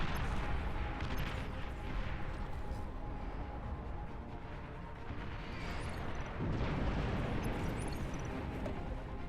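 Rumbling explosions from a tactical missile launcher's strikes in the real-time strategy game Beyond All Reason, a dense, continuous roar of booms with a heavier blast swelling near the end.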